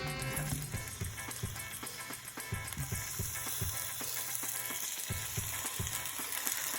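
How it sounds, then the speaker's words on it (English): Steady, crackling sizzle of tomatoes frying face down in a hot pan over medium heat, continuous and close, with occasional soft clicks and bumps over it. "So I'm just going to take the tomatoes and put them face down like this. You can hear that sizzle."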